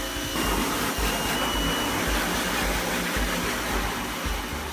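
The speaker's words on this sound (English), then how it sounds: "put the frame inside the unit, lock it down, it vacuum seals the frame" A screen printing exposure unit runs its vacuum to seal the frame, a loud steady whooshing suction roar that holds unbroken throughout.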